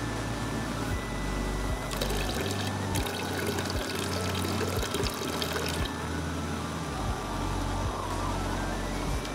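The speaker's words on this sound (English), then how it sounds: "Then I'm gonna add about 4 ounces of water" Water pours into a Greek coffee pot outdoors on a ski mountain, a steady splashing stream lasting a few seconds under a low background rumble.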